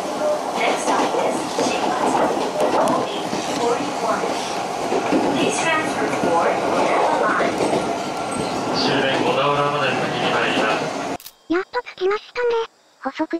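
An Odakyu local stopping train nears Shin-Matsuda station, with a loud, steady rumble and clatter of rails heard from inside the car, fading near the end into a station announcement or chime.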